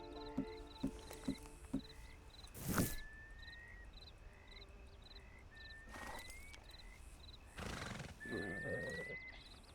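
A horse whinnies in the video game Red Dead Online, after a few soft hoofbeats; shrill neighs and snorts recur between quiet ambient tones.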